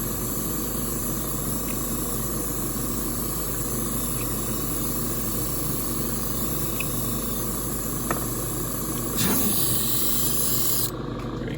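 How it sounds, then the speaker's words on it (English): Airbrush spraying ink in a steady, continuous hiss that runs close and even throughout, growing slightly brighter and louder near the end before cutting back. "Alright, let's get that sprayed out."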